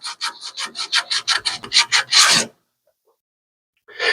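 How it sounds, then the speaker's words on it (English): Hand sanding with a piece of 80 grit sandpaper wrapped over a thumb produces a quick series of about a dozen rhythmic raspy strokes, close and loud, then a pause before another stroke begins. "I'm going to stick my thumb with a piece of 80 grit sandpaper in there and sand it."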